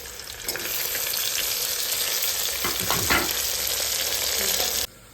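Loud, steady sizzling of onion, tomatoes and spices frying in hot oil, with a few stirring scrapes, cutting off abruptly near the end.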